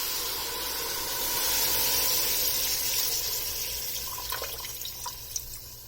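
Water pours steadily into a pot of sautéed mutton for soup, a close, continuous rushing hiss that tapers off into a few small splashes and drips.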